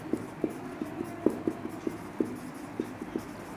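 Handwriting during a Class 12 maths lesson, a quick series of short, regular taps and strokes with a faint tonal edge, moderately close and quiet, without talk.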